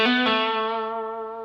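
A short bluesy guitar phrase through heavy distortion, a couple of picked notes ringing out loud and sustained, then slowly decaying, played alone.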